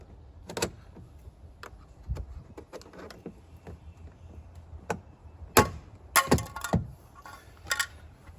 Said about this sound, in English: we're going to take a pry tool, and behind the door panel, if you just pry this off